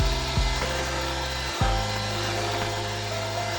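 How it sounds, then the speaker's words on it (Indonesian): An electric hand mixer beats egg and sugar for a sponge cake batter, giving a steady whirring motor hum with a couple of brief dips as the beaters shift. "Lalu langsung aja ini kita mixer dari speed rendah sampai ke speed tinggi, sampai si telur dan gulanya ini mengembang"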